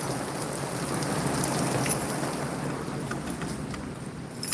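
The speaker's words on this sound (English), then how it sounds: "It's raining sideways." Hard wind-driven rain blows sideways outside under an awning, a loud, dense and unbroken wash of drops hammering nearby surfaces, gusting slightly, with no speech.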